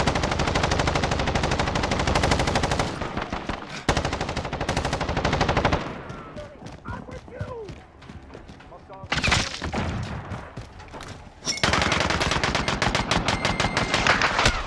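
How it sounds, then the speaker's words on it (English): A sentry gun in a Call of Duty match fires long loud bursts of rapid automatic gunfire, broken by a quieter stretch with game sounds, then resumes. "Enemy sentry gun active."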